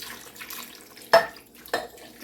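Water poured into a crockpot holding potatoes seasoned with salt, pepper and garlic, heard as two brief splashing pours, each a quick burst in a quiet kitchen.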